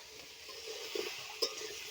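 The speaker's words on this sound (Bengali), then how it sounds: "নাড়াচাড়া করে ভেজে নিচ্ছি।" Dried chili powder and spices being stirred and fried in a pan for a vegetarian cauliflower and potato curry, heard as a quiet, steady sizzle with a couple of brief spoon-against-pan clinks and no talking.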